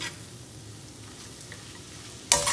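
Eggs and drumstick leaves cooking in a hot pan give a steady, low sizzle that carries on alone, ending with a sharp clatter of a utensil near the close.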